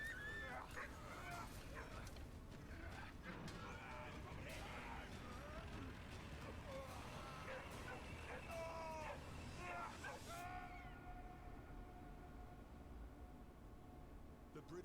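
A dog in the World War I video game Valiant Hearts yips and whimpers repeatedly in short bursts, mixed with game sound effects and music; a person talks over it at times.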